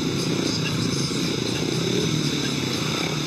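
Speedway motorcycles wait at the tapes at the start of a heat at the German Speedway Grand Prix in Teterow, a loud continuous engine roar with a steady drone filling the whole moment.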